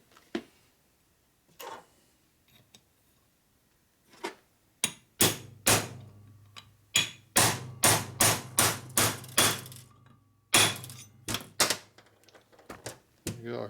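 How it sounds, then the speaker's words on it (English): A hammer strikes metal repeatedly, driving a part into a Harley-Davidson 1992 80ci Evo motor case, starting with a few scattered taps and then settling into a steady run of sharp, loud blows, close by. "Get a hammer."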